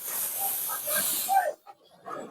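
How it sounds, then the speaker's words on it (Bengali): Water splashed into a pan of half-fried chilli chicken sets off a loud, steady hiss of steam and sizzle for about a second and a half, then drops off quickly to quieter pan sounds. "এবার আমি এখন একটু জল দিয়ে দেবো,"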